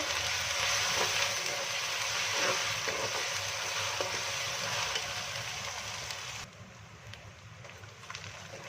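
Ginger and garlic paste sizzles and fries in a pan, a steady close crackle with faint stirring that drops to a softer hiss near the end.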